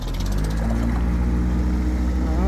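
A motorboat engine roars loudly and continuously as the throttle is pushed hard, its pitch climbing toward the end with no voices over it.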